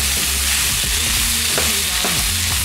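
Steak and thinly cut carrots and other vegetables stir-frying in oil in a pan, a loud, steady sizzle with occasional stirring scrapes throughout.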